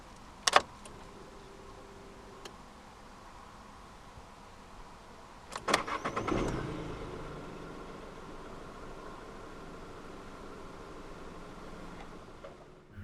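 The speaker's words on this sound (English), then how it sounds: "insert the key into the slot right here, and twist the key like you would in a normal car" Keys jangle and a key turns in a 2015 Škoda Fabia 1.0 MPI, the starter cranks briefly and the small engine catches, then settles into a quiet, steady idle inside the cabin.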